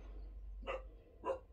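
Two short, faint dog barks sound about half a second apart in a quiet indoor room, with no speech.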